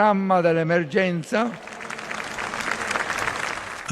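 A large crowd applauds at the funeral Mass for Pope Francis, sustained clapping rising after a voice speaks over the opening seconds.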